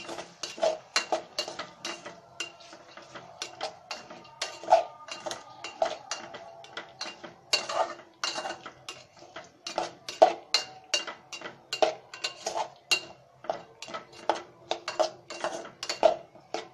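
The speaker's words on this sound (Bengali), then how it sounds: "এখন ভিউয়ার্স, আমরা এটাকে একটু নেড়ে নেব।" A spoon scrapes and clinks against a cooking pot as lentils with plenty of oil are stirred for dal bhuna, irregular repeated metallic taps and scrapes up close, without speech.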